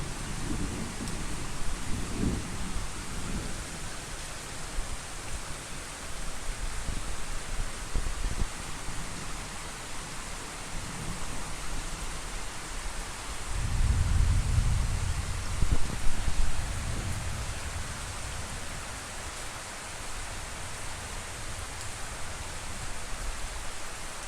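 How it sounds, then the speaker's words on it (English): Steady rain during Panama's rainy season, a dense constant hiss with low rumbling thunder rolling in the distance, swelling once in the middle before settling back into the downpour. "Now, the rain is slowing, but the thunder is still there."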